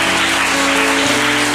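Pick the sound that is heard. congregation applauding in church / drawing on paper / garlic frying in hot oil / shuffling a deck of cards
congregation applauding in church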